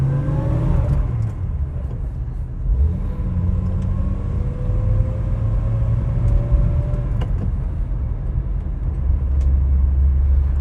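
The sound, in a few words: 1959 Vauxhall Velox PA car engine accelerating on road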